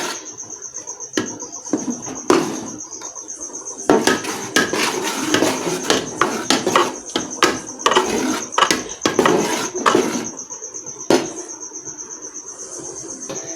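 Utensil stirring a chicken dish with fried onions in a pot, giving repeated close scraping and clinking strokes in irregular bursts over a steady background hiss, with no talking.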